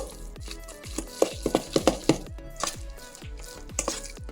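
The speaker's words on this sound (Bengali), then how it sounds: "আমি আবার করে চামচ দিয়ে মাখিয়ে নিতে থাকলাম।" A spoon repeatedly scrapes and taps against a bowl while chicken is mixed with spices for kebabs, about a dozen close, crisp clinks and wet squelches in an uneven rhythm.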